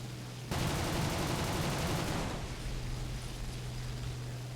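Sustained burst of aircraft machine-gun and cannon fire from a Spitfire F Mk. IX or Bf 109 G-2/Trop in War Thunder realistic battles, a dense rapid rattle lasting about two seconds before dropping to steady engine drone.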